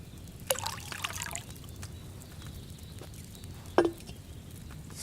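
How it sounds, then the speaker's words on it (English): Wine trickles into a cauldron in the video game Kingdom Come: Deliverance 2, a faint liquid pour with a couple of sharp clinks over quiet background ambience. "First, you have to pour the right base into the cauldron."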